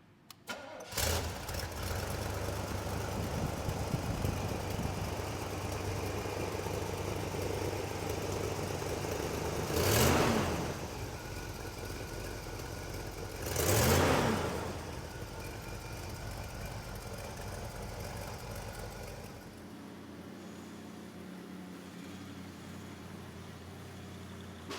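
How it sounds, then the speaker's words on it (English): A 1972 Chevrolet Corvette Stingray V8, numbers-matching, cranks and catches on a cold start, then settles into a loud, steady idle with two brief revving swells before the engine note drops away near the end. "I'm going to go ahead and turn this thing on, get a cold start"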